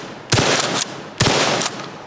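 A KSG-12 12 gauge bullpup pump shotgun fires two loud, close blasts about a second apart, each followed by a short ringing decay.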